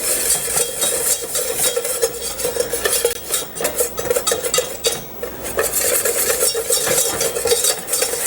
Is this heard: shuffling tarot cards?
no